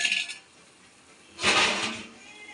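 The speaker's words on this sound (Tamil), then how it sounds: "தட்டை போட்டு மூடிடலாம்." A metal plate set down over a cooking pot on low heat gives two bright metallic clinks, a lighter tap first and then a louder ringing clatter after a short pause.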